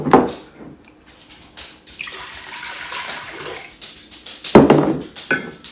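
Water is poured from a container into a pot to make brine for pickled salmon, splashing in short loud bursts with a softer trickling stretch between them, close by and without talk.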